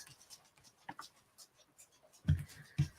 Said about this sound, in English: Let me put these cards down.